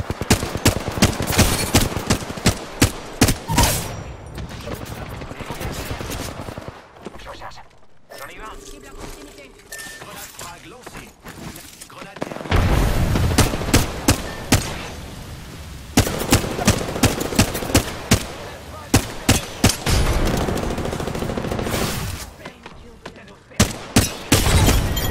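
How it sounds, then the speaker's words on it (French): Bursts of automatic gunfire aimed at the player in Apex Legends on PS4, with rapid volleys in several clusters and a quieter lull in the middle, all under a speaking voice. "On me tire dessus."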